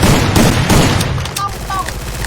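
Loud, dense gunfire from a video game shooter rattles in rapid bursts with heavy booming impacts, closely packed and continuous throughout.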